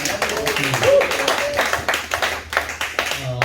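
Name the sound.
church audience applause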